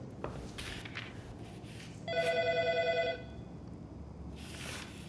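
A telephone rings once in a quiet room, a single trilling electronic burst of about a second over faint background noise.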